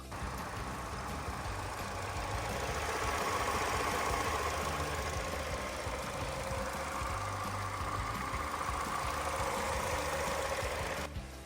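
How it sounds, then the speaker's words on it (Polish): A 2013 Citroen C3 Picasso 1.4 petrol engine idles steadily with a constant low rumble and hum, unchanging throughout, with no voices. "Posłuchajcie, jak pracuje w nim silnik."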